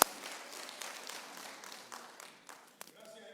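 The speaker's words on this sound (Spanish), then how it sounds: "Démosle un aplauso al Rey de Reyes y al Señor de Señores" A church congregation applauds, a soft, fairly distant wash of many hands clapping that fades away near the end, with a few sharper claps standing out.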